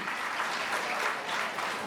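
Audience at a government event in Delhi distributing nutrition kits to pregnant women claps loudly, a dense, even burst of applause from a crowd, with no speech over it.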